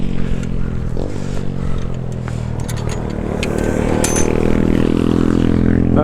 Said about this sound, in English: Oh, there's two motorbikes coming down the path.